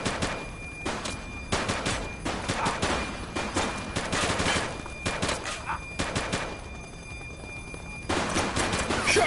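Sustained bursts of automatic gunfire in The Precinct video game shootout, dense rattling volleys repeating with brief gaps, loud and close throughout.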